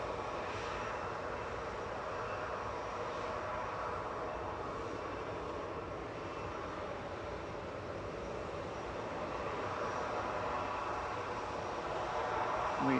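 An Airbus A320-200 bound for Alicante taxis out at Manchester Airport, giving a steady, faint, distant jet engine drone with a low rumble that stays even throughout.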